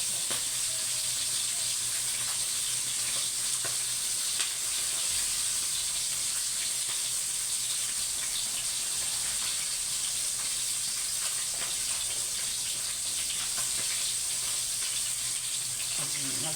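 Steady sizzling and crackling of food frying in hot oil, a continuous bright hiss with no pauses throughout.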